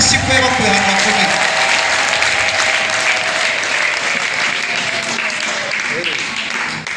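Church congregation applauding during a worship service, a dense, steady wash of clapping that fills the room and continues unbroken for the full seven seconds, easing off slightly toward the end.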